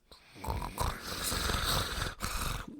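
A voice imitates snoring with a rough, rattling nasal drone held for a couple of seconds, close and fairly loud.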